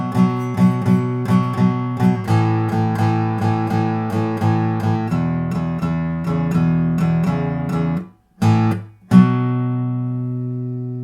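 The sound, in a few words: guitar playing a beginner blues strumming pattern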